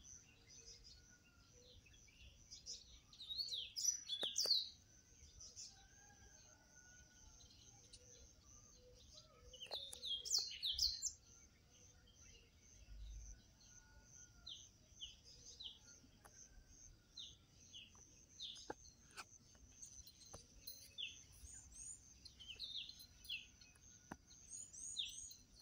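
Small backyard birds give quick high chirps and short twittering phrases, clustered in brief busier spells and otherwise sparse, faint against a soft outdoor background with insects humming low.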